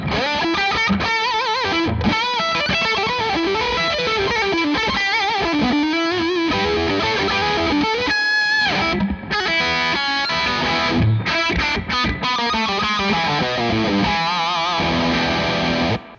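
Electric guitar played through an Orange Rockerverb 50 MkIII 2x12 combo amp set to a crunchy, gritty overdrive, with continuous loud chords and riffs ringing out and brief pauses between phrases.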